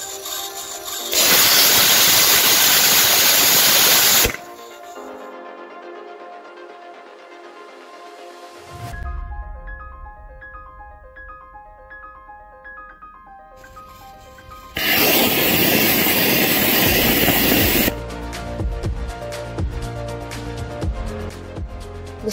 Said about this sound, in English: A static fire was conducted using an Estes E-12 rocket engine to test the durability of the mount